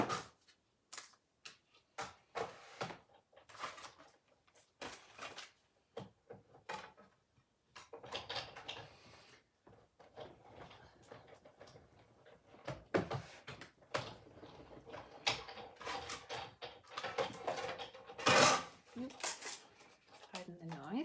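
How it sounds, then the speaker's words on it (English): Repeated clunking and mechanical clacks from a die cutting machine pressing through paper, with scattered knocks and a brief voice over the busy rattling. "So bear with me just while I die cut this out."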